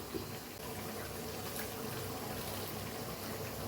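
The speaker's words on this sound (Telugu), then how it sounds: "ఇప్పుడు రైస్ కుక్ చేసుకోవడం కోసం వాటర్ బాయిల్ చేసుకోవాలి" Water bubbles and rushes steadily in a pot as it heats to a boil for cooking basmati rice for mutton biryani. The sound is a continuous, close, even hiss with no talking.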